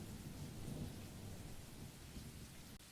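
Steady heavy rain with a low thunderstorm rumble, a continuous close wash of noise with no voices.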